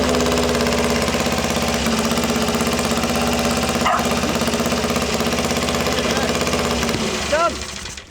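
A restored Triumph Tiger 90 motorcycle engine runs steadily up close with a loud, even throb for about seven seconds before cutting out.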